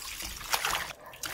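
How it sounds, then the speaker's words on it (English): Running water splashes and trickles briefly and close up while cow heel is being washed, a short burst of bright spattering with no voices. "wash it off very properly"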